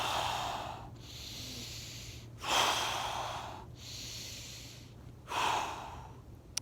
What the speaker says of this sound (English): take a few inhales through your nose, exhale through your mouth